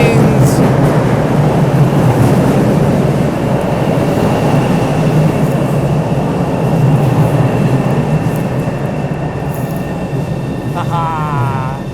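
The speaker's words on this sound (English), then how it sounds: "It's one of these new trains!" A train passes with a loud, continuous rumble of wheels and carriages, easing slightly toward the end, where a brief wavering tone rises over the noise.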